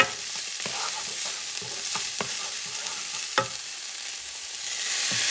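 A utensil scrapes and knocks through Spanish octopus rice in a sizzling pan, with a few close, irregular stirring clatters over a constant frying hiss and no voices.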